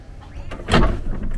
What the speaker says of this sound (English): Well, the door should open, right?